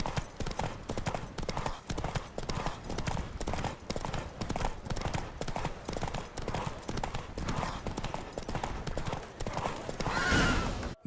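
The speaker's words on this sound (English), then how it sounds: "Don't spare the horse! I adore the speed, the rush of air!" Horse hooves galloping at full speed during a race in The Witcher 3 video game: a steady, rapid clip-clop runs close and loud the whole way through, with a brief whinny-like burst near the end.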